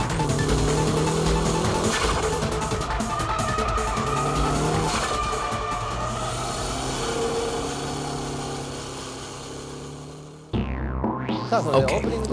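Kiichi Tsuchiya drifts a car while countersteering, its engine droning steadily with a long, sustained tire squeal, before the sound cuts and a new squealing, rising whine takes over near the end.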